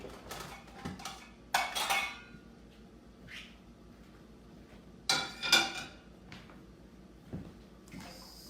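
Plates and dishes clatter and clink in a home kitchen during a chicken cabbage rolls cooking demo, with a few scattered bursts of handling noise between quieter gaps, close and moderately loud, with no talk.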